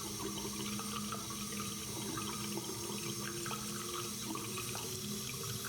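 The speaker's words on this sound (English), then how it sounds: "That is just water sounds." Water in the Riven video game, a continuous trickling, splashing flow like a running tap, steady and fairly quiet throughout with faint clicks scattered within it.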